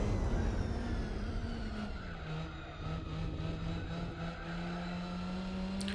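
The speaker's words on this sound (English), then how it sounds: "The engine of this car is quite relaxing, I don't know why. For me it sounds like a pair of bees." A car engine in Gran Turismo 4 drones steadily with a buzzing, bee-like tone, the pitch dipping and then holding level as it runs continuously, with faint tire noise and no speech.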